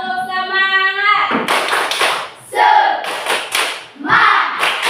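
A group claps out the rhythmic 'tepuk semangat' cheer, a short voiced call giving way to loud, sharp, patterned bursts of hand claps from many people close by.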